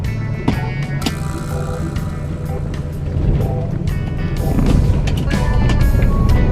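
A manual car in first gear pulling away from a stop, its engine note rising and growing louder over several seconds, heard from inside the cabin with steady road rumble.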